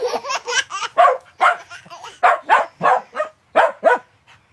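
Dog barking repeatedly near the listener in quick uneven bursts, mixed with yips and a few whimpering notes, loud and mostly alone with no talk over it.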